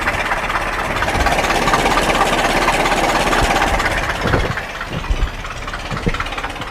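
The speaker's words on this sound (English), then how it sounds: "that right there is how you crank the Model T forward" A Ford Model T engine runs steadily, a low rumbling chug with faint knocking, continuous and fairly close, with a few louder thumps near the end.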